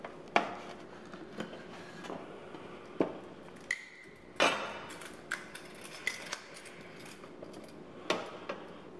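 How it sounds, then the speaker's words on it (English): A knife cuts between the bones of coffee-rubbed smoked short ribs, making scattered crisp scraping and clicking contacts with a couple of light metallic clinks, close and fairly quiet. "Just cut between the bones"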